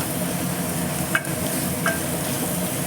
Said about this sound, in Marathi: इकडे आता फोडणी देते मी